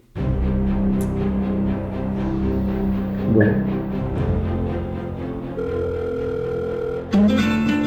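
A telephone rings with a steady electronic tone that holds for several seconds and then changes pitch near the end, sounding close and loud, over a low background hum.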